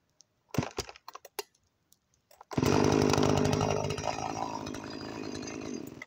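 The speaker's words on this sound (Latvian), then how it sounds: "Un šitas ir ļoti labs zāģis." After a few clicks and knocks, an Alpina 52cc petrol chainsaw roars to life close by and keeps running loudly, its idle settling slightly.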